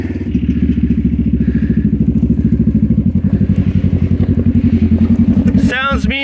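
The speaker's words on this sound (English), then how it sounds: "Sounds mean with that exhaust, boy." A Yamaha YZ250 dirt bike engine and exhaust throb loudly and close up in a fast, even pulsing rhythm, with a brief voice cutting in at the very end.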